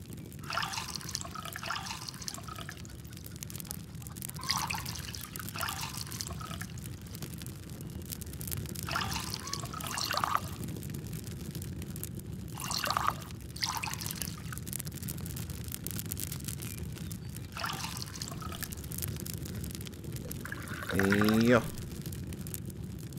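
Water filling a pot in the video game Farmer's Life, a soft continuous trickle and pour running steadily and quietly beneath someone talking throughout, with a brief rising tone near the end.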